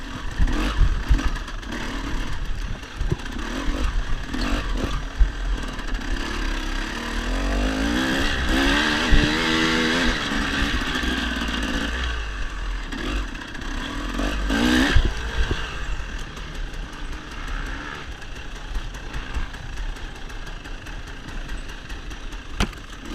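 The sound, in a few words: off-road dirt bike engine during hare scramble race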